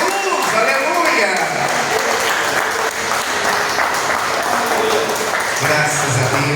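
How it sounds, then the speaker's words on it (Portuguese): A church congregation bursts into strong, sustained applause for Jesus, dense clapping filling the room at full volume with a few voices and cheers rising over it. "Agora eu convido a igreja a dar a mais forte salva de palmas ao Senhor Jesus."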